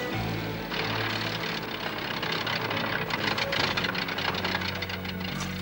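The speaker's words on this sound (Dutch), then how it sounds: "Dat vliegtuig heeft moeilijkheden." A cartoon airplane in trouble, its propeller engine droning and sputtering loudly throughout with a rough, uneven roar that swells toward the end.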